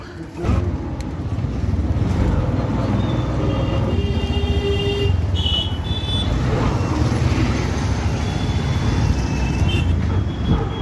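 A metro train rumbles past at the Nagerbazar crossing in Kolkata, a steady loud roar that holds for about ten seconds with faint squeals of wheels on the rails and traffic noise mixed in.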